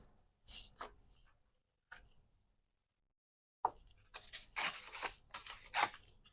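A paper card is tucked into a paper pocket in a handmade junk journal, giving soft papery rustles and scrapes in two short bursts, a pause of near silence, then a busier run of crisp sliding and crinkling, close and quiet.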